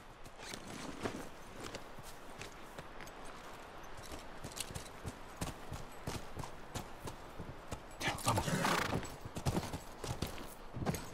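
Horses in The Last of Us video game move along with a steady clip-clop of hooves over an ambient game bed, growing louder and busier near the end; no clear neighing stands out.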